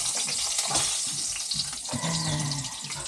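Ampalaya (bitter gourd) frying in oil, a bright continuous sizzle with occasional stirring scrapes and light clatter, close and fairly quiet.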